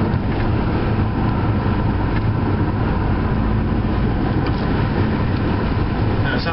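A 2011 Mitsubishi ASX 1.8 diesel 2WD climbs an incline in Wales. The engine drones steadily beneath heavy road and wind noise, heard from inside the cabin, with no talking.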